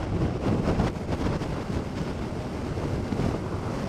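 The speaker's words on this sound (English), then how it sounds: "Windy over the bridge." Strong wind buffets the microphone while crossing a bridge near Hayling Island, a steady, loud, roaring rumble with gusty fluctuations throughout and no voices.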